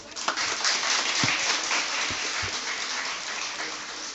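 Audience applause for a contestant at an inter-college declamation contest, a steady wash of many hands clapping in a hall, fairly loud and continuous with a few sharper claps standing out.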